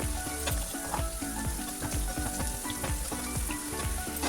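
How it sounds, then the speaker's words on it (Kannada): Garlic frying in oil in a pan for a citron lime pickle, a steady close sizzle with rhythmic scraping as the cloves are stirred, and no voices. "ಬೆಳ್ಳುಳ್ಳಿನ ಚೆನ್ನಾಗಿ ಫ್ರೈ ಮಾಡಬೇಕು ನೀರಿನಂಶ ಹೋಗೋವರೆಗೂ"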